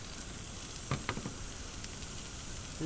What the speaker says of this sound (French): dans une poêle, on met un peu d'huile et on vient mettre les échalotes